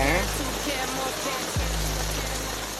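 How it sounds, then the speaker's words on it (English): Heavy rain pours steadily in a dense, loud hiss outdoors during a fishing trip, with a brief low thump partway through. "I got friggin' poured on during that last fish. That was some serious rain."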